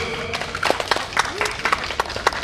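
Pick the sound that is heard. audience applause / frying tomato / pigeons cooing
audience applause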